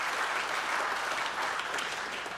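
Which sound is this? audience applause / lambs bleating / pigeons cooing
audience applause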